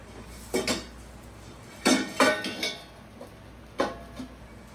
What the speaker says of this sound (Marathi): मी झाकण ओपन करते.